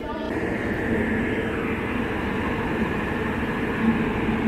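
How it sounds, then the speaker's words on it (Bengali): Steady low rumble of an Indian Railways passenger train idling at platform 2 of a station, continuous and fairly loud, with faint background voices. "ওই পেছনে দেখা যাচ্ছে আমার ট্রেন লেগে রয়েছে 2 নম্বর প্ল্যাটফর্মে"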